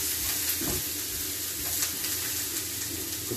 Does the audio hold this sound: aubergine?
yes